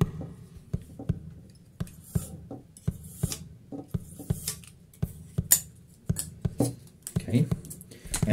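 Material being cut by hand to make DIY HeroQuest board-game walls: a quick series of sharp snipping or slicing clicks at close range, evenly repeated, with faint background sounds between cuts.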